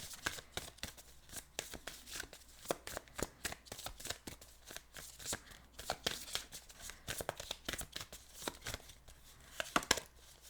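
Tarot cards are shuffled in a steady run of crisp riffling flutters and soft slaps, close and fairly quiet, with no voice over them.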